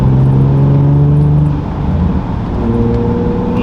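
An Infiniti G35 with a VQ engine and a custom MagnaFlow X-pipe exhaust revving, a loud steady droning tone that eases and settles into a deep hum, heard up close.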